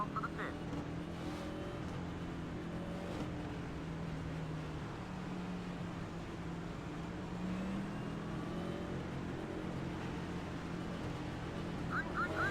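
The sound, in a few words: race cars driving in a racing simulator video game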